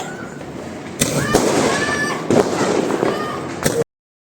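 Diwali firecrackers and fireworks bursting outdoors, with several sharp pops and crackling explosions at irregular intervals over a steady crackle of celebration noise, loud and fairly close.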